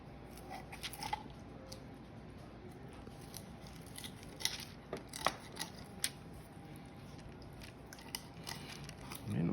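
Kitchen scissors cut through a raw chicken's backbone during spatchcocking, giving quiet, close, irregular crunching snips and cracks over a faint background hum.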